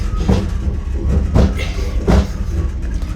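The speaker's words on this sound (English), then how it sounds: "Welcome on board this train from Chiang Mai to Bangkok." A sleeper train from Chiang Mai to Bangkok rumbles along the rails with a steady low roar, broken by three heavy rhythmic clunks of wheels passing over track joints.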